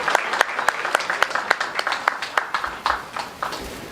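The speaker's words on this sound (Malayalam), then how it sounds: "നല്ലൊരു കൈയടി കൊടുക്കുക" An audience claps at a film re-release press meet, a steady run of individual claps filling the room at moderate loudness.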